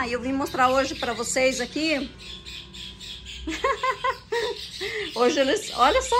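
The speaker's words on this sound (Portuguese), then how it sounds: "que coisa mais linda do mundo esses passarinhos" Small birds squawk and chirp in bursts on a grassy lawn near potted plants. Someone talks over the birds, and the calls weave between her words and carry through the pauses.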